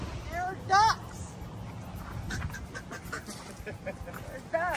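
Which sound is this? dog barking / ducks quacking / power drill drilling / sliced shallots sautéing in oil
ducks quacking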